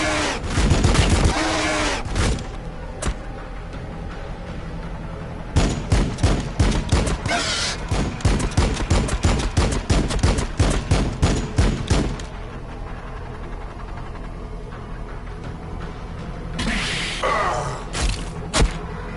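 Gunfire in the Warhammer 40k Battlesector strategy game: loud bursts at the start, then a long run of rapid, evenly spaced volleys, and another scattered flurry near the end.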